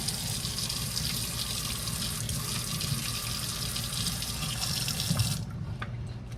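Tap water runs steadily into a sink while Himalayan salt soap is lathered, a constant close splashing hiss that cuts off abruptly near the end.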